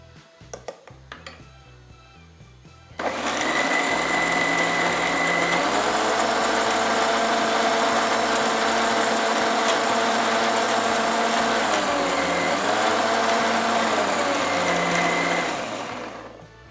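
A mixer grinder whirs loudly as it grinds amla into paste, a high motor whine that starts abruptly after a few seconds of clatter, runs steadily with slight pitch dips, then winds down at the end.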